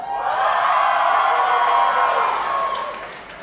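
A concert crowd at the Great American Music Hall in San Francisco cheers for Michelle Obama, a dense steady roar of voices and whoops that swells, holds for a few seconds and then tapers off.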